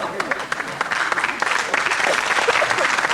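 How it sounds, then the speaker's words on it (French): Loud, dense clapping from an audience fills the whole stretch, with a few voices calling out beneath it. "merci d'applaudir"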